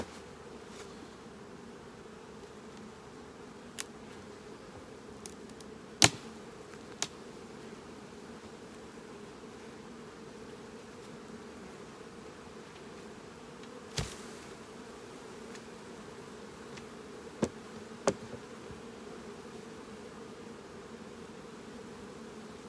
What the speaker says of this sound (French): tout le reste, là, il y a des abeilles